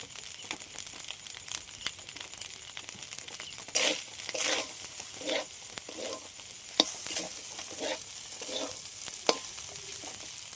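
Rice with chicken and garlic being stirred and mixed in a frying pan, with steady sizzling, scraping and clattering of the spoon against the pan across the whole stretch, with no voices.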